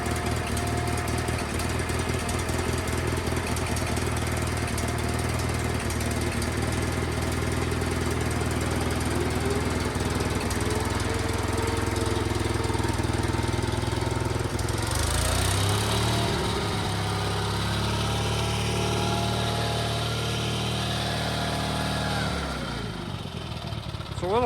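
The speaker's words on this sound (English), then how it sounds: "It's a little loud. Making transmission noise." Sears GT18 garden tractor engine running steadily and loud up close, with a droning transmission whine on top, before the sound shifts and tapers near the end.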